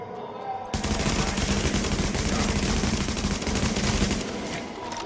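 Sustained automatic gunfire in Tom Clancy's The Division, a loud rapid rattle of rounds that bursts in suddenly and keeps hammering for about three and a half seconds before cutting off.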